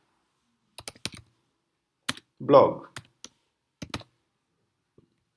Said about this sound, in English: you can simply start typing here